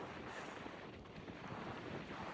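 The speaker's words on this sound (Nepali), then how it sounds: "हावा पनि एकदमै चिसो चिसो चलिरहेछ" Cold wind blows outdoors in Japan, a faint, steady rushing that buffets the microphone and holds a low, continuous level for a couple of seconds with no voices.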